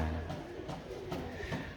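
Soft pigeon cooing in the background, low and murmuring, repeating a few times in a quiet space.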